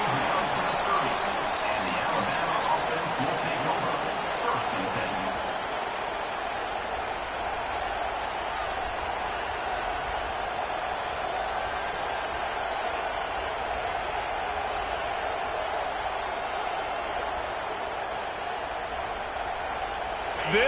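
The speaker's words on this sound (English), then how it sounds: "This crowd ready to make its presence known." Stadium crowd at a football game roars as a steady, dense wall of cheering and babble that holds loud and continuous from start to finish.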